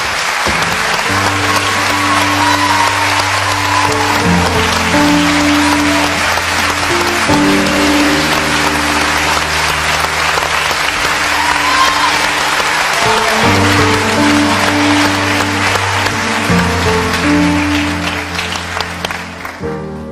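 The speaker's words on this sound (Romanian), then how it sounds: "Vrem să o aplaudăm." An indoor audience at a stage performance applauds loudly, with dense continuous clapping over background music that carries on for a long stretch before starting to thin out at the end.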